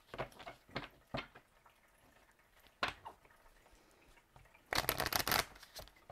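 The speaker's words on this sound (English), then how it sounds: "I get carried away with the shuffles, wanting to make sure the cards are fully clear" Playing cards being shuffled in quick riffling bursts, a few separate shuffles followed by a longer, louder flurry near the end.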